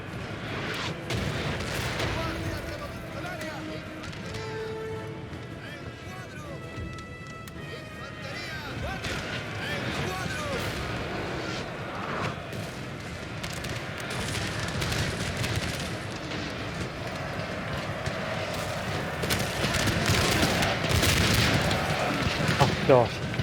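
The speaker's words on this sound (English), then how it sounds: "I hate how the AI's got so much artillery." Heavy artillery in a Darthmod Napoleon: Total War battle with Spain keeps up a continuous rumble of booms and distant gunfire that swells toward the end. Someone talks over much of it.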